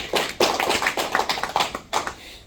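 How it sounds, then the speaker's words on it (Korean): Applause for a donor at a peace foundation event in Seoul, a small group clapping in an uneven patter for a couple of seconds at moderate distance, no voices over it. "박수 한번 주십시오"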